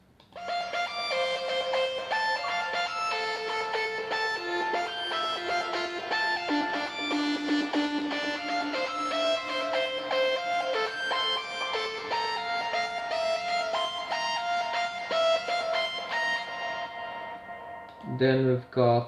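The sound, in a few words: synthesized lead melody in a music production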